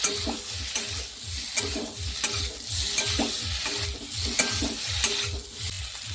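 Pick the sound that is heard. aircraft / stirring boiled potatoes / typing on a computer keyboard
stirring boiled potatoes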